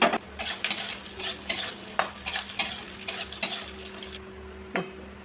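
Raisins and cashews are stir-fried in a pan with a soft sizzle under repeated sharp metallic scrapes and clinks of a spoon against the pan, coming in quick irregular bursts.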